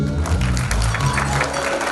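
Loud audience applause fills a Punjabi folk music performance, a dense steady clatter of clapping with low musical tones lingering beneath it.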